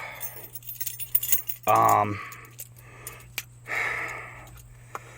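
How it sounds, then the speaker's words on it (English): Truck keys jangle as the key is pulled from the ignition: a sharp metallic rattle burst, then a few lighter clinks over a low hum, nearby and without speech. "in the ignition to where you couldn't get it turned back to pull the key out, but I can"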